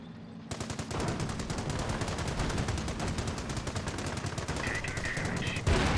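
Rapid bursts of machine gun fire from a Company of Heroes 1 battle pound steadily for several seconds. The shots are loud and tightly spaced, with a brief high-pitched tone near the end and no talk over them.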